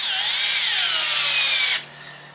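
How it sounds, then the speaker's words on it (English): Power drill boring a hole while gas struts are fitted in a Promaster 2500 camper-van build, a loud, steady whine lasting under two seconds that ends abruptly, leaving a faint low hum. "Take our drill, go ahead and line up our hole."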